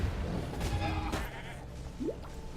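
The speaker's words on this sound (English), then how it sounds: "that's a lot of goats" Goat bleats from the video game Path of Exile, a short wavering call rising near the end over a dense, noisy game soundscape.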